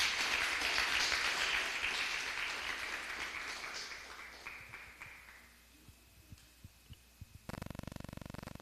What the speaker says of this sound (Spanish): Den un fuerte aplauso mientras el hermano pasa.